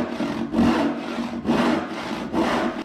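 Hand saw 20 to 22 inches long with 10 teeth per inch cutting wood, close rhythmic rasping strokes at about one per second, each a loud push followed by a brief lull.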